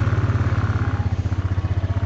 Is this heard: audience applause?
no